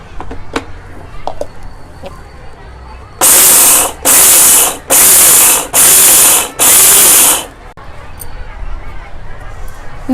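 A mixer grinder whirs through Mappillai Samba rice in five loud, evenly spaced bursts of about a second each, with quieter background sounds before and after.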